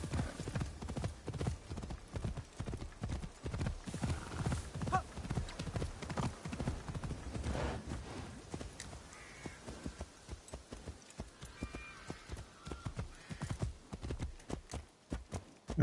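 Horse hooves clip-clopping at a steady gallop through the open world of the video game Assassin's Creed Shadows, a continuous rhythmic stream of close, loud hoofbeats with a brief whinny and faint ambient bird calls.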